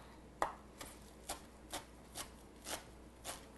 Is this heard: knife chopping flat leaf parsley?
yes